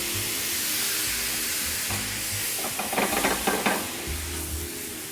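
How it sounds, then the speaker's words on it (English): Pineapple hits smoking-hot olive oil with a little sugar, a loud continuous sizzle and hiss with bursts of crackling spatter partway through. "once it's smoking hot, there goes the pineapple"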